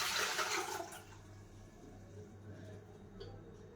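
Water pours off mushrooms being strained, a brief loud splash and rush at the start that fades quickly into a quiet trickle and low background hum.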